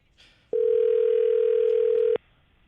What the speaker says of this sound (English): I'm calling Fester's private cell phone right now.